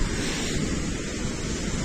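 Steady roar of wind buffeting the microphone over crashing storm surf at Arkhipo-Osipovka on the Black Sea coast under overcast skies, loud and continuous with no pauses.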